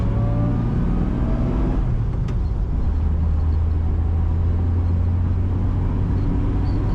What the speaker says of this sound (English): Today we're driving a 1957 Chevrolet 210 sedan.